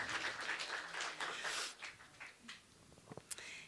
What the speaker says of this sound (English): round of applause, 20 years